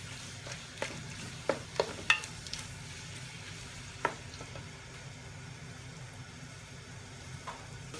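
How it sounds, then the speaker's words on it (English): Chicken pieces browning in a pan for a korma curry, giving a steady low sizzle broken by a few sharp clicks and scrapes as they are stirred every couple of seconds, with no talking. "all we want to do to our chicken is brown the outside"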